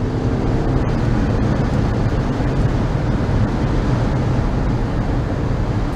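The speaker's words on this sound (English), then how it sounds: "Again, pretty windy day," Strong wind buffets the microphone in a constant rough roar during a 2012 Audi Q5 test drive, broadband and loud throughout, with no voices.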